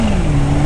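A car engine with a supercharger held at high revs, a steady loud drone carrying a sustained whine with no voices over it.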